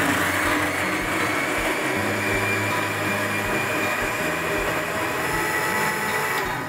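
An electric blender whirring through fruit for juice, a loud, steady motor roar running unbroken close by for several seconds before cutting off at the end, with no talking.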